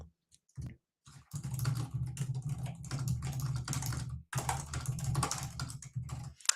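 Close computer keyboard typing at a terminal, bursts of rapid key clicks in quick runs, a brief pause midway, then more fast typing ending with a sharper keystroke.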